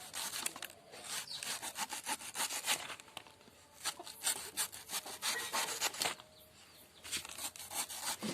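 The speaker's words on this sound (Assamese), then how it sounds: "এয়া কলগছডাল মিহি মিহিকৈ কাটি লৈছোঁ।" A banana plant stem being finely chopped by hand for pig feed, giving rapid repeated rasping, sawing-like cuts through wet fibrous stalk in close bursts with short pauses between.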